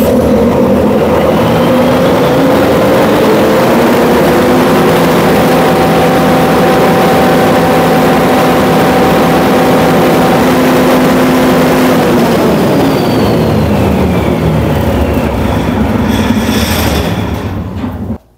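Emergency generator running loud and close, a steady heavy engine drone with humming tones that shift midway, then cutting off abruptly at the end.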